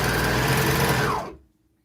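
Sewing machine running steadily at speed while stitching a bulky, rolled-up fabric piece, a loud continuous whirring buzz close by that slows and stops near the end.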